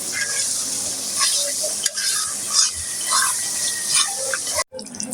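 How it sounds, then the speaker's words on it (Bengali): Spices for a chicken roast sauté in a pan with a continuous sizzle and steady stirring scrapes, close and fairly loud throughout. "এদিকে মশলাগুলো ভালোভাবে কষিয়ে নিচ্ছি"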